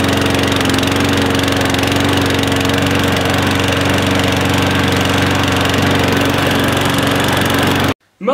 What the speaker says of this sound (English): I somehow decided that it was a good idea to mow the carpet.